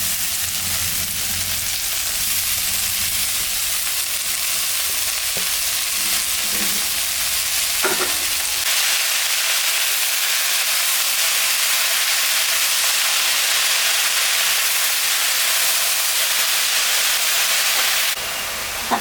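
Pea greens frying in a pan with potato and eggplant in a home kitchen: a loud, steady, close sizzle and hiss with occasional stirring scrapes, continuing without pause and without talk.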